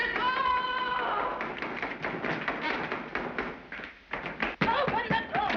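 Repeated knocking and thumping on a door in an old house in 17th-century Holland, irregular taps and thuds mixed with a raised voice shouting.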